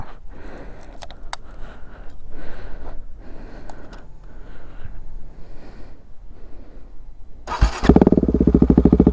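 A KTM RC 390 motorcycle fitted with an Akrapovic exhaust, dB killer removed, idles with uneven low pops before the engine suddenly roars up loud and close, settling into a harsh rapid throb.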